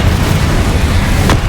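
Incendio fire spell cast in Hogwarts Legacy: a loud, continuous roaring whoosh of flame with a brief brighter burst near the end.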